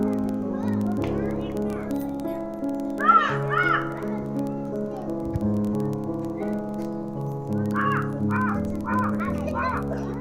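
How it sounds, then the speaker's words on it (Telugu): Crows caw outdoors at a school Sankranti festival gathering, with a few bright, ragged bursts of calls rising over a steady bed of tonal music and crowd hum. "నేచురల్గా పక్షులు కూడా అరుస్తున్నాయి"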